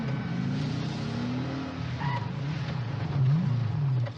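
A car drives in GTA with the LSPDFR police mod, a steady engine drone with rising and falling revs running throughout, close and fairly loud.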